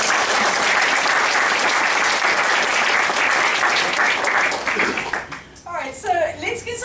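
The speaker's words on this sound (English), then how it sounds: "Let's just give her a round of applause." Audience applause after a talk about San Pedro, a dense, steady clapping that fills about five seconds before thinning out, with a voice starting to speak near the end.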